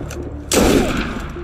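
Gunfire in the video game Assassin's Creed Unity, a sudden loud blast bursting in after a quieter lead-in and then rumbling away, with no talking.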